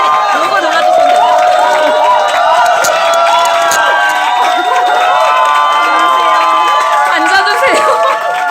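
A loud crowd cheers, shouts and claps as a company president is welcomed onto the stage at a business event. Many voices overlap in a continuous, close roar that lasts for several seconds.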